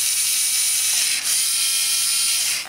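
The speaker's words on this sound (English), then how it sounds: "So I can pan the camera using that motor." A Vex robot motor turns a mounted video camera side to side, making a steady, loud mechanical whir of gears and ratcheting that runs unbroken throughout.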